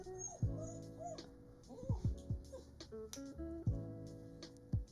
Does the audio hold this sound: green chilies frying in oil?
no